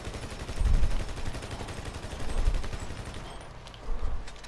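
Bursts of rapid automatic gunfire in a military shooter video game, with muffled rattling volleys that rise and fall in loudness over a low rumble, no talk over it.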